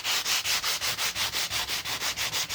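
Steady back-and-forth sanding strokes scrape old paint from a wooden veneer dresser, a dozen or so even rhythmic passes, close and fairly loud with no voices.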